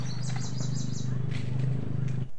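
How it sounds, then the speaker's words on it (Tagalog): Birds chirp in a forest, a run of repeated high calls early on and later scattered tweets, over a steady low hum and background rumble. "pumunta ka nga lamang dito sa gubat at makinig ng mga huni ng mga ibon"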